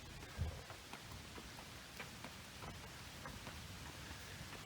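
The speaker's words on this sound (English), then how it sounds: "now it's starting to rain" Light rain begins falling on a Suwannee River wilderness canoe campsite in June, a soft steady patter with a faint low rumble, quiet and without voices.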